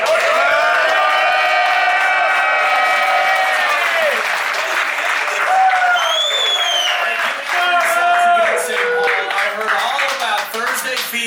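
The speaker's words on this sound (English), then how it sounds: "a raucous round of applause, ladies and gentlemen, for Nordo" A raucous round of applause and cheering from a live audience at a football show in St Paul, Minnesota, sustained and loud, with whoops and voices rising over the clapping.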